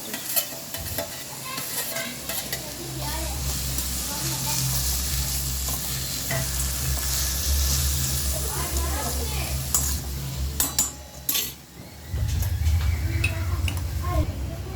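Capsicum frying and being stirred in a pan for spicy Kathiyawadi Maggi noodles, a steady loud sizzle with scraping stir strokes running throughout, briefly dipping near the end before resuming.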